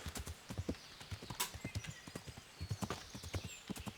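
Horse hooves trotting in the medieval video game Kingdom Come: Deliverance, a steady clip-clop rhythm with a brief whinny, quiet and continuous, with no talking.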